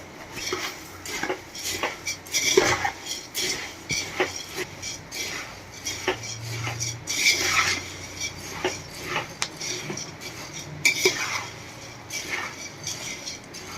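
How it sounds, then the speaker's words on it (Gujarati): Puffed rice with turmeric roasting in a pan over a low gas flame, stirred with a spoon that scrapes and rattles against the metal in repeated strokes. "આપણે મમરાને 5 મિનિટ સુધી એકદમ સરસ આપણે આ રીતે શેકી લીધા છે"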